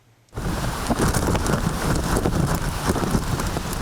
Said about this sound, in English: Hong Kong's first number 8 gale or storm signal this year was issued with the onslaught of Super Typhoon Yagi